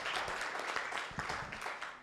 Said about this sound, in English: Give them a round of applause, a bigger one, because we have forgotten them.